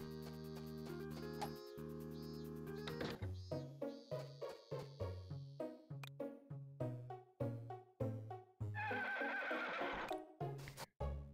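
A horse in the video game Harvest Moon whinnies over game music, followed by a run of rhythmic clip-clop hoofbeats, with another neigh near the end; no one speaks.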